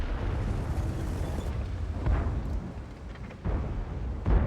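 Tank cannon rounds land with deep booming thuds in the World of Tanks game, over a constant low engine rumble, with a few heavier bursts spaced a second or two apart and no voices.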